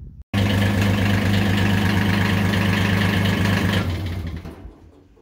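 A Kubota tractor engine starts up and runs at a steady, loud idle for several seconds, then shuts off and fades out. No one speaks.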